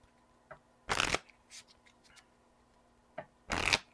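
Cards for the Enchanters Deluxe Edition board game being shuffled in two distinct bursts about two and a half seconds apart, close and crisp, with a few faint taps and rustles of handling between them and no talking.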